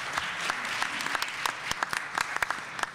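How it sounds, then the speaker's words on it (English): Audience applause for the panelists at a business conference energy panel, a steady close wash of clapping with sharp individual claps standing out, lasting throughout. "let's give a round of applause to all of our panelists"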